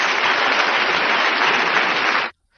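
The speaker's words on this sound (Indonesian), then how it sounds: "Boleh kasih tepuk tangan dulu teman-teman semua yang ada di bawah" Audience at an evening gathering gives a steady, loud round of applause for a little over two seconds that stops abruptly, with no talk over it.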